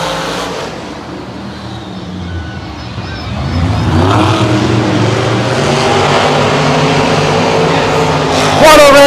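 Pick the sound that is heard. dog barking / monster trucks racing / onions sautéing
monster trucks racing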